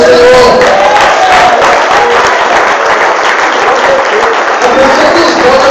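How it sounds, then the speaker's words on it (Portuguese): Church congregation applauding at an evening vigil service, loud dense clapping that fills the space with a sustained roar, voices and cries mixed in throughout. "Quem crê, aplauda o nome do Senhor"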